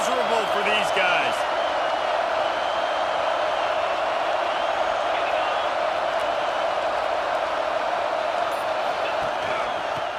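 A large crowd in a football stadium keeps up a steady roar that fills the space, with a commentator talking over it throughout.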